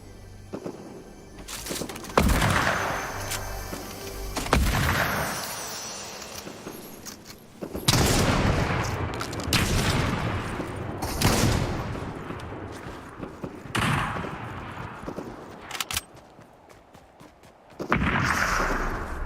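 Gunfire from a video game crackles out in repeated bursts and scattered shots, loud and close, with quieter gaps between volleys and no clear talking.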